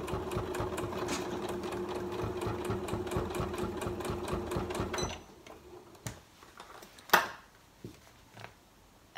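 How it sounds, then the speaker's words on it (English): Sewing machine stitching fabric and vinyl for a storage pocket, a fast, steady mechanical rattle running for about five seconds, then stopping, followed by a few scattered clicks and handling knocks. "I'm going to do some forward stitches and some backward stitches and then carry on sewing."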